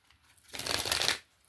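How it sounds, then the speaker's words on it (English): A single quick riffle of tarot cards being shuffled, rising and falling over about a second, close and crisp against near silence. "let's go ahead and get these cards shuffled."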